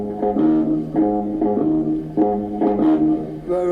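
Bass guitar played in a conventional, typical bass-player style: clean, round plucked notes in a steady repeating riff, close and alone with no talking.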